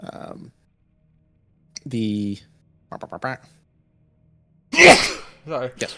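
A single sharp sneeze bursts out loudly near the end, among scattered short remarks from people talking around a table during a tabletop roleplaying game session.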